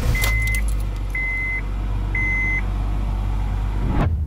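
A Honda Jazz is switched on, three evenly spaced electronic chimes sounding over a steady low hum, with a faint jingle of keys near the start and a clunk at the end.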